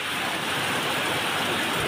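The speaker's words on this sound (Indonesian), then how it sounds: "Sedang terjadi hujan disertai kerikil dan debu vulkanik." Rain mixed with gravel and volcanic ash falling during an eruption of Mount Lewotobi Laki-laki in East Nusa Tenggara, a dense, steady hissing patter that fills the air without pause and with no voices.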